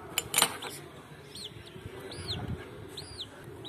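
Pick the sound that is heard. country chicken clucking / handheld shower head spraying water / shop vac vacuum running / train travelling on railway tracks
country chicken clucking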